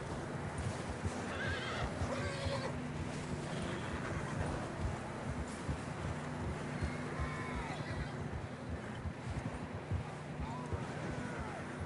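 In Red Dead Redemption 2, a horse whinnies a few times over the steady clip-clop of hooves, with a low wind-like rumble underneath; the sounds have a game-like quality.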